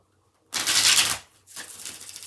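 Tarot cards are riffle-shuffled close up, a loud papery burst of flicking followed after a brief pause by a second, softer run of shuffling.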